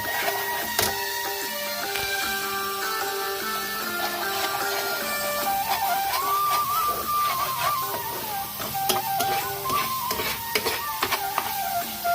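Fish coated in a green coriander masala sautéed in oil in a pan, with steady close sizzling broken by scraping and stirring clinks of a spatula throughout.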